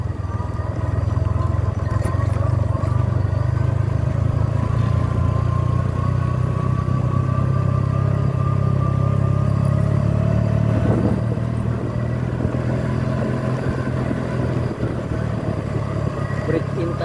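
A motor tricycle engine runs with a steady low drone throughout, close and continuous, with voices talking intermittently over it.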